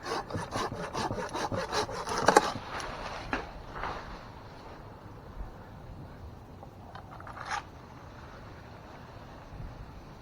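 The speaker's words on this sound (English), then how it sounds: "Just use my handsaw. Why not? It's lighter, it's easier." A handsaw cuts through a limb of a dying oak in a series of quick rasping strokes that then fade, followed by a few scattered knocks outdoors, with no talking.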